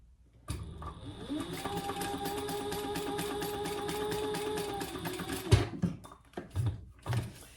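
A sewing machine stitches across the bottom of a cork wallet in one steady, continuous run of several seconds, close up, followed by a few clicks and handling knocks.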